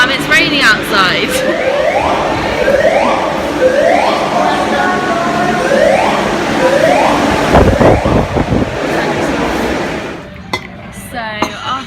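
A hostel fire alarm: a repeating rising electronic alarm tone wails in regular cycles, loud and close, with voices and clatter around it before it cuts off.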